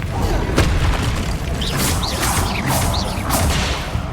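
Bombarda spell explosion in Hogwarts Legacy, a heavy boom followed by whooshing magical swishes and rumbling battle noise, loud and close.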